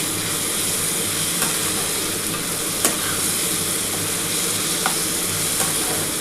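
A ginger, garlic and green chili paste sautés in oil for a lote fish curry, crackling in a constant close sizzle with occasional scraping stirs and light knocks, no voices over it.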